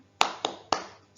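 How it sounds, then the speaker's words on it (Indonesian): Three sharp, close hand claps in an even rhythm, part of the kindergarten class's 'tepuk semangat' morning clapping chant, with a brief quiet after each clap. "Tepuk semangat."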